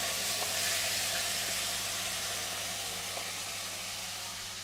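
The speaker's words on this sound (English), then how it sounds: "I'm just gonna give it a light sear." Food sears for a Sri Lankan curry with a loud, continuous sizzle and hiss close by, steady throughout, with a low hum beneath it.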